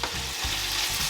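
Onions and small lardons sizzle steadily in a pan as they gently melt down for a cider-braised Normandy-style pork filet mignon, a continuous close frying hiss with no talk.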